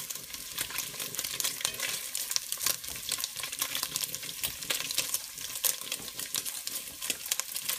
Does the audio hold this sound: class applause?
no